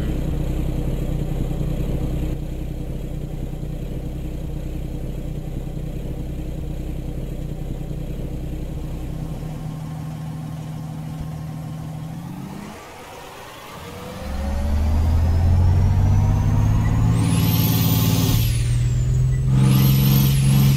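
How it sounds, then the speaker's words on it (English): A Caterpillar 3408 diesel idles with a steady low drone, then after a brief dip the engine surges hard as the throttle is pressed, climbing into a loud, sustained rev near the microphone. "This is what it happens if I put my foot on the throttle."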